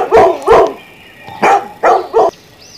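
A dog barks five times nearby, two quick barks, a pause, then three more in a short burst, loud against a quiet background.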